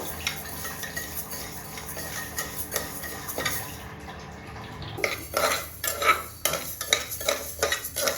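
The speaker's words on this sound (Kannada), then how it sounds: "ಈಗ ಹೆಸರುಬೇಳೆ ಹುರ್ಕೋಬೇಕು ಅದೇ ಚೆನ್ನಾಗಿ ಕಲರ್ ಚೇಂಜ್ ಆಗೋ ತಕ್ಕ" A spoon scrapes and stirs moong dal dry roasting in a metal pan, with repeated irregular scraping strokes and faint sizzling. The strokes are close and grow busier toward the end.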